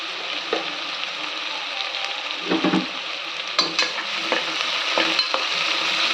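Steady sizzling of chopped onions frying in hot oil, with occasional scraping stirs of a spatula against the pan.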